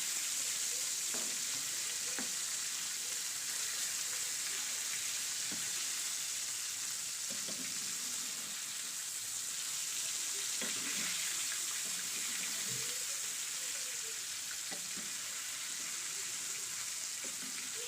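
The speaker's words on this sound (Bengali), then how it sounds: "তেলটি গরম হয়ে গেলে আমি মাছটাকে দিয়ে দিলাম" Pona fish fries in hot oil in a pan, giving a steady, close hiss of sizzling throughout, broken by occasional soft clicks and scrapes from turning the pieces.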